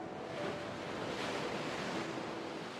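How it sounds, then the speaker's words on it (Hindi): Stormy sea waves crashing on the cold Chilean Pacific coast, a continuous broad roar of surf mixed with wind noise, steady and moderately loud without distinct breaks, no voices. "यहां पर जहां तूफानी पानी जमीन से टकराता है"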